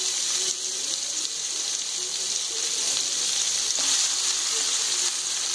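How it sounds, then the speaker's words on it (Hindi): Chopped onions frying in melted butter for pav bhaji, giving a steady, close hissing sizzle with faint stirring clinks throughout. "बटर काफ़ी हद तक मेल्ट हो ही चुका है और ये साथ साथ फ्राई होता चला जाएगा"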